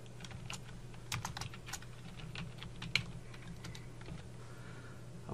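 Computer keyboard keys tapped in a quick, uneven run to erase text in a Word document, with one sharper keystroke near the middle and a steady low hum underneath; close and fairly quiet, with no talking.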